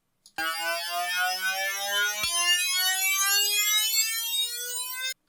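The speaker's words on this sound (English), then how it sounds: "a siren riser or something" A synthetic siren-like riser: a bright, buzzy harmonic tone slowly sweeping upward for about five seconds, with a brief click partway, then cutting off.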